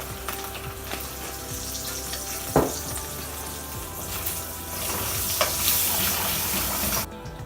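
Eggs for chicken fried rice sizzle steadily in a hot pan, a close crackling hiss with a few sharp scraping or stirring knocks and a brief clatter near the end.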